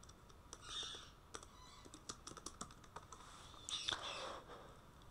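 Rapid keystrokes on a computer keyboard while writing a document in MS Word, irregular bursts of close, crisp clicks with short pauses between runs, heard alone without talk.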